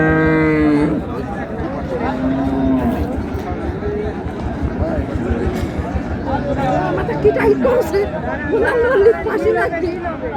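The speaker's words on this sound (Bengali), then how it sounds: "সুন্দর গাভী বাছুর" Cows and calves low repeatedly at a busy Dinajpur cattle market, with a loud, drawn-out moo at the start and more calls scattered through a steady murmur of crowd chatter and nearby talking.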